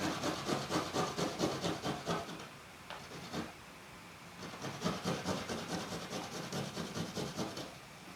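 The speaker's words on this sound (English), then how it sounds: "So we are grate our garlic" Garlic cloves rubbed against a grater for a borscht filling, giving steady rhythmic rasping strokes that pause briefly midway, then resume in quick repeated scrapes, close and clear with no talking.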